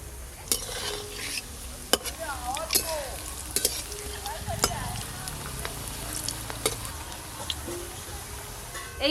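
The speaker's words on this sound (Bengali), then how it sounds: "এই কোপ্তাগুলোও ভালো করে ভাজা হয়ে গেল।" Beetroot koftas shallow-frying in a pan, a steady low sizzle broken by sharp clinks and scrapes of a spatula or utensil against the pan, with faint voices in the background.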